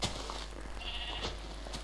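A red sheep bleats in Minecraft, a thin wavering cry near the middle of the stretch over a steady game hum, with soft clicks and movement sounds around it.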